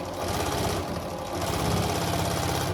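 A sewing machine back stitching through fleece fabric, a steady close mechanical whirring and rapid needle chatter running continuously and loudly with no voices.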